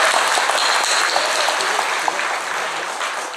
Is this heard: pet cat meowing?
no